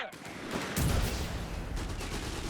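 Machine-gun fire in Company of Heroes 3, sustained rattling bursts with a heavy thump near the start amid constant battle noise, with a caster talking over it.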